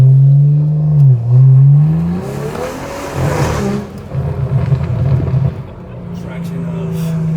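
A BMW car engine revs loud and near, pitch climbing and dropping through sustained roaring pulls while the tires lose traction, with a voice briefly over the engine.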